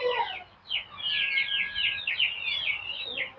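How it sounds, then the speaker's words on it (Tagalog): Chickens on a farm, apparently waiting for feed, give a steady run of chirpy clucking calls, fairly close and continuous for a few seconds with no talking. "may manok sa taas"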